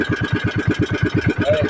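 A boat motor chugs in a fast, even pulsing rhythm while trolling on the water, loud and close, with no talk over it.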